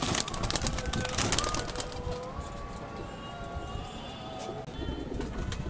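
Madrasi pigeons give soft, low cooing calls close by, amid faint rustling and scattered clicks, with no voices over them.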